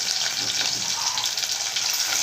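Onion pieces and curry leaves cook in a pan for a Telugu dried black-eyed pea curry, giving a steady, fairly loud broadband sizzle that runs evenly throughout with no talking.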